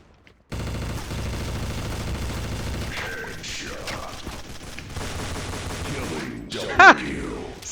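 Rapid pistol and rifle gunfire in Counter Strike Source rattles in dense bursts over several seconds, with a sharper louder shot near the end and a player talking faintly underneath.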